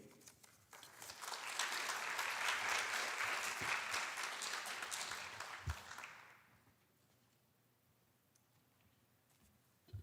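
Applause from the audience at a high school academic awards ceremony for the freshman class swells quickly, holds as steady crowd clapping for several seconds, then fades out, leaving a quiet hall.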